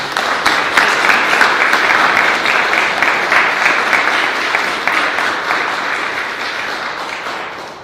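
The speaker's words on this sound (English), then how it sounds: "Let's give you a round of applause." A civic ceremony audience claps in a dense, sustained round of applause at a public proceeding with an honor guard present. The clapping is loud and fills the whole stretch, easing slightly toward the end, with no talk over it.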